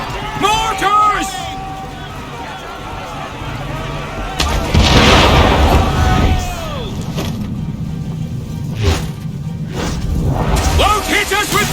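Mortar fire in Assassin's Creed III Remastered: heavy booming blasts and a broad rumble around the middle, mixed with whooshes, shouting voices and busy battle noise throughout.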